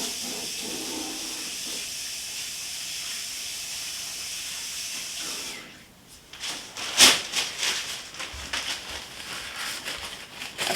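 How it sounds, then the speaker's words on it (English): Water running into a kitchen sink while hands are washed, a steady hiss that stops partway through, followed by close splashing, clunks and handling noises at the basin. "I'm gonna go wash my hands"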